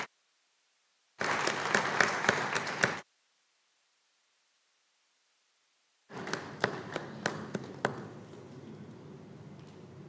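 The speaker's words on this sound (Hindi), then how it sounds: "कृपया तालियों से इन विभूतियों का स्वागत करें।" An audience claps to welcome guests onto the stage at a foundation day event, two separate bursts of steady applause separated by several seconds of silence.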